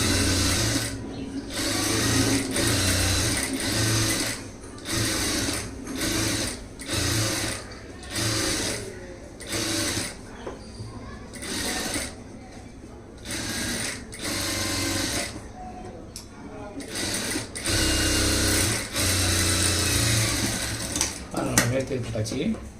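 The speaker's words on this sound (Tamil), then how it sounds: "லைனிங் கிளாத்து மேலே மேல் தையல் போட்டுக்கலாம்" A sewing machine top-stitches lining cloth on a stone-model lining blouse, running in repeated bursts of rapid mechanical whirring separated by short pauses, with someone speaking between and over the stitching runs.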